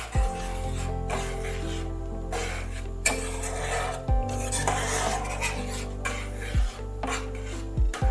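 A spoon stirs and mixes mitha dali, a sweet offering for the Jagannath temple, in a metal pot, making steady scraping and rubbing with a few sharper clinks against the pan.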